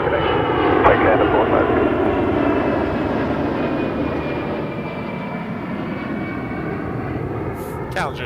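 A Bombardier Challenger jet at Toronto Pearson Airport roars loud and steady, a broad engine rumble that slowly eases, with faint radio chatter and talk underneath.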